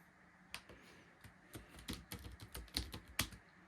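A password is typed on the keyboard of a 2004 Motion Computing M1400 tablet PC: a quiet, close run of irregular key clicks that grows busier toward the end, with no voices.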